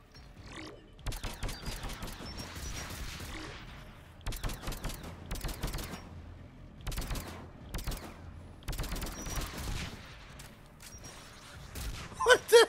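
Gunfire in Mass Effect Legendary Edition comes in repeated bursts of rapid shots separated by short pauses, loud and close, with a brief grunt near the end.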